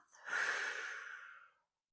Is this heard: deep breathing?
yes